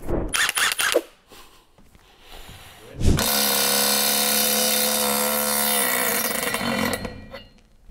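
A small Ingersoll-Rand cordless impact wrench loosens a bolt in one loud, continuous hammering burst of about three seconds, preceded by quieter clicks and handling clatter.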